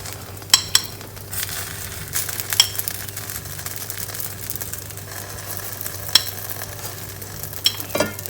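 Turkish stuffed flatbread cooking in a pan over medium heat, buttered and brushed with milk, giving a faint steady sizzle with a low background hum and a few sharp clicks and taps scattered throughout; no talk.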